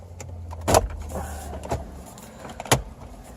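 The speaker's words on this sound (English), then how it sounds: "that's the clips popping that you hear there" A few sharp pops and snaps of plastic trim clips releasing during car head unit removal, two louder ones standing out, over a faint background hum, close by.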